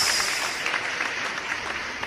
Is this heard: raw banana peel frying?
no